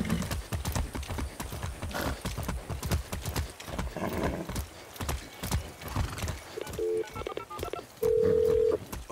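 Horse hooves clip-clop in the video game Far Cry 6, a steady run of close, distinct steps with a neigh and a few electronic menu-like beeps near the end.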